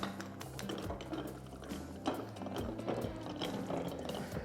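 A meat sausage stuffer's piston is lowered into its canister, giving a run of ratcheting mechanical clicks and gear clatter that keeps going at a steady, moderately loud level, with no talking.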